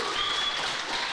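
A crowd cheers and applauds a fighter receiving her blue belt, a steady dense wash of clapping and noise heard at a moderate distance without a break.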